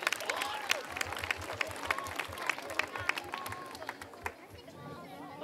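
Faint audience applause at an evening summer youth gathering in a parish setting, scattered claps mixed with crowd chatter and children's voices.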